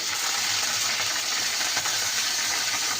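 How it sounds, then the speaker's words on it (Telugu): Curry leaves dropped into hot oil give a loud, dense, continuous sizzle and hiss close up, holding steady throughout without any talk. "నెక్స్ట్ ఇది కరివేపాకు వేసుకోవాలి."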